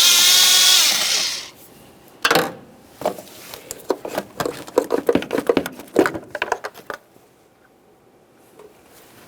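A tool loosens an 8mm-headed hose clamp on the air intake at the throttle body of a 2006-2012 Ford Fusion 3.0L V6. A burst of hiss comes first, then a run of close, rapid ratcheting clicks and scrapes that fade to quiet.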